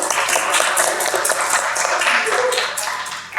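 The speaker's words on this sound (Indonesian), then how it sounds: "Tepuk tangan buat ini." Classroom applause from a group of teachers and students, a dense, steady patter of many hands clapping at close range that holds for a few seconds and thins slightly near the end.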